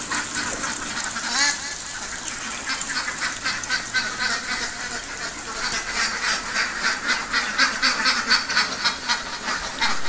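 A flock of ducks quacks and chatters as the birds leave their duck house on a rainy day, dense overlapping calls filling the whole stretch at close range, with no one speaking.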